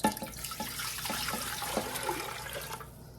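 Water runs and splashes into a cooking pot on the stove, six cups poured for a from-scratch cherry pie filling, a close continuous gurgling pour that stops near the end.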